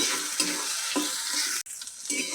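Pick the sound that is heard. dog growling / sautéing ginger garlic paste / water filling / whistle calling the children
sautéing ginger garlic paste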